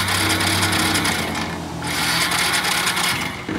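A motorcycle starter motor cranking repeatedly on a weak battery after the push button is pressed, a continuous whirring, ratcheting churn up close, with the engine never catching.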